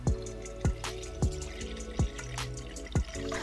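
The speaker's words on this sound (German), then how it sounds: "Dann füllt sie Wasser in eine große Schüssel" Water dripping and splashing from a tap into a large bowl indoors, with a series of distinct plops about every half second over a steady running-water background, close and moderately quiet.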